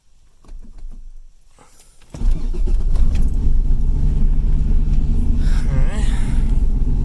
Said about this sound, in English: let's fire it up, take it for a ride